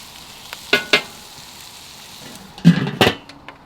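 Chili meat with bacon and onions grilling in a Weber kettle grill gives a low sizzle with a few sharp scraping and stirring clatters, sporadic bursts over a quiet crackling bed, close and without speech.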